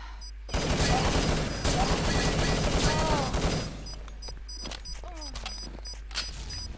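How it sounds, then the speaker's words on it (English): Explosions and a rapid fusillade of gunfire in a competitive Clanbase NationsCup match between France and Netherlands, loud dense bursts for about three seconds, then sparser shots and clicks over quieter background. "we are getting a lot of explosions here"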